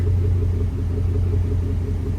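A 2008 Chevy Avalanche 5.3 engine runs for the first time after timing chain work. It settles into a steady, close, low idle rumble with no talk over it.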